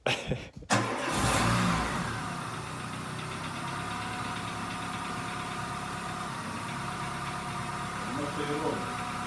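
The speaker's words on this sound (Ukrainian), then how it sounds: "Так, працює двигун." A Dacia Solenza's engine, fully cold after a head gasket replacement, cranks and catches, then settles into a steady, even idle that runs on without a break.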